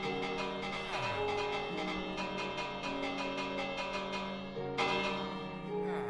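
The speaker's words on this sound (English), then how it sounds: "It's a bell." In a Minecraft village, a bell rings with resonant, sustained metallic tones that layer and repeat over a steady bed of game sound, with a sharper fresh strike near the end.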